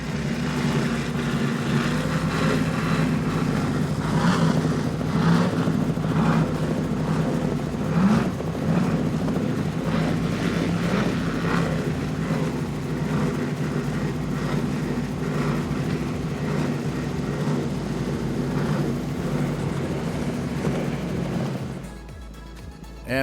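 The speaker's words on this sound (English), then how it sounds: "this 2005 Outerlimits 39 Quattro, powered by Mercury Racing 525s" A 2005 Outerlimits 39 Quattro powerboat with Mercury Racing 525 engines roars loudly and continuously during the Key West poker run, a deep sustained engine drone with wind and water rush that fades slightly near the end.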